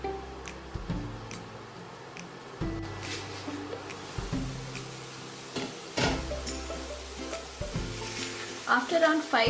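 Chopped courgette with browning garlic sizzles in a pan for a cheesy leek and courgette risotto, a close, continuous crackle with scattered sharp pops and stirring scrapes, while a low voice-like hum runs underneath.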